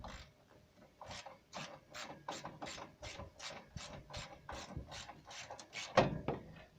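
A small wrench ratchets steadily on the bolts of a Rolls-Royce Silver Spirit/Spur grille, a quick run of regular clicks that sounds close but quiet, with a slightly louder click near the end.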